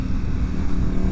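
A 2025 Ducati Panigale V4S Tricolore superbike engine rumbles loud and close, a steady throbbing drone with no voices.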